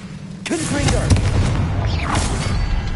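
Confringo fire spell explosions in Hogwarts Legacy, a sequence of booming blasts with crackling bursts, loud and close, mixed with game effects.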